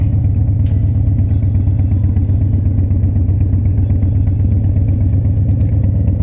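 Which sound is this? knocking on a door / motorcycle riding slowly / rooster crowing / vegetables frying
motorcycle riding slowly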